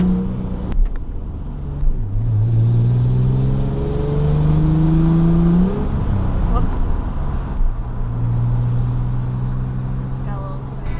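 Manual-transmission car without power steering driving on the road, engine revving up and down through gear changes in a steady, close drone, with people talking over it.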